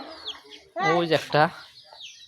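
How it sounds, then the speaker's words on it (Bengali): A rooster gives a loud, close cluck in a short burst mid-clip, while someone speaks briefly nearby. "ওই যে আমার মোরগ, ওইটা খেতে দাও"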